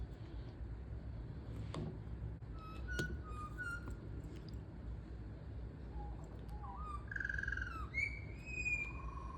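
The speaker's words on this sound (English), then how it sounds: "I wonder what upset the birds just now." Several birds give sharp, agitated calls and whistles, scattered chirps and squawks rising over a low outdoor rumble, moderately distant and fairly faint.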